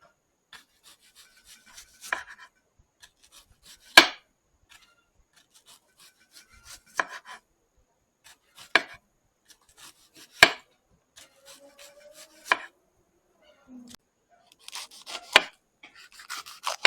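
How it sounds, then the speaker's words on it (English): A knife slices onion very thin for escovitch fish, producing sparse, irregular crisp cuts against a board, close and distinct, separated by near silence. "you want to slice your onion really thin"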